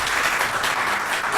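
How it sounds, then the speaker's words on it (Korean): Seminar audience giving a brief burst of applause for an introduced speaker, a dense, steady clatter of many hands at close range. "예, 박수 부탁드립니다"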